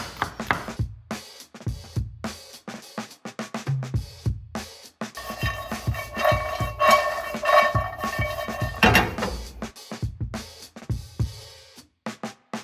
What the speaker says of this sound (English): I'm gonna saute these mushrooms, so I'm just gonna slice them up a bit here